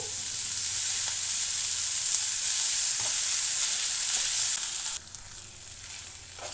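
Onions fry with ginger garlic paste in a pan for an egg masala pulusu, giving a loud, continuous sizzle up close that drops slightly in level toward the end.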